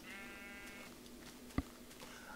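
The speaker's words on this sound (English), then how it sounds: "Ooh, a pink sheep." A pink sheep bleats once in a video game, a short nasal cry near the start, followed by a sharp click and faint game ambience.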